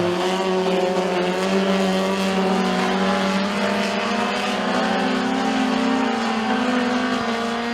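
Dirt track race cars roar down the front straightaway at a county raceway heat, a loud sustained engine drone with shifting pitch and layered motors blending together, close and continuous.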